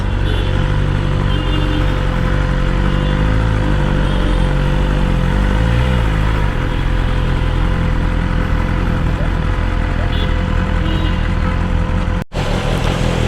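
A BMW motorcycle with a BMW slip-on sports exhaust idles loudly and steadily nearby, its deep rumble briefly wavering early on.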